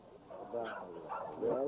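Several dogs in a yard on a fall day bark and whimper at close range, yips and whines rising and falling over 1.7 seconds with no talk.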